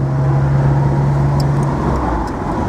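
A 1985 Porsche 911 Carrera 3.2 Cabriolet accelerating in fourth gear on a summer road, with a loud steady engine drone and road rumble heard from on board.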